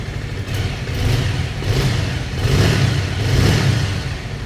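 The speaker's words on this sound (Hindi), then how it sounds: "एग्जॉस्ट नोट, ये रहा आइडल पे" A Bajaj Avenger 220 Street cruiser motorcycle idles and revs nearby, its exhaust note a steady low thrum that swells in a few gentle blips, loud and alone without talking.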